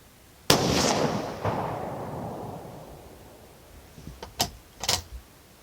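Remington 722 rifle in .222 firing a test load with new Hornady brass, one sharp loud report followed by a long decaying rumble outdoors, then a couple of fainter distant thumps and clicks.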